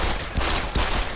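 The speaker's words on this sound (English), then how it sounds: "Fucking gunshots!" Gunfire in the video game Deus Ex: Human Revolution, loud close shots coming in two or three quick broadband bursts over a dense, noisy game soundscape.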